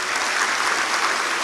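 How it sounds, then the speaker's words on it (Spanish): Steady applause from a church congregation fills the space, a dense, even wash of clapping with no breaks, sustained at full strength throughout. "Un aplauso al Señor."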